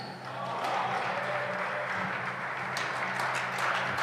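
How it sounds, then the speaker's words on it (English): Spectators at a professional squash match applauding between rallies, a steady, moderately distant patter of many hands clapping that swells slightly and then fades, with faint background murmur. "Applause again."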